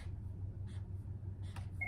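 A phone sounds in a room with a few faint, brief electronic beeps spaced apart over a low background hum, with no talk.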